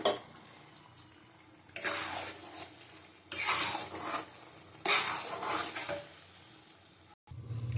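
A spoon stirs khichuri made with mung and masoor dal in a pot, giving scraping, sizzling bursts in three or four strokes between quieter simmering stretches.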